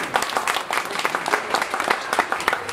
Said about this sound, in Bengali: কোথায় গেল করতালি?